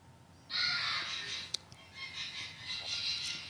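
A group of Amazon parrots calling in an exotic bird enclosure, harsh squawking cries held steady over about three seconds, fairly distant and moderately loud, with one sharp click midway.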